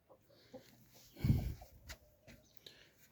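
A long-legged mixed-breed chicken on a farm gives a short, loud cluck midway through, with a few softer calls and rustling around it.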